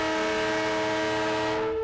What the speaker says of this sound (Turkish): Hedefine ulaşan ilk ihracat treni büyük heyecanla karşılandı.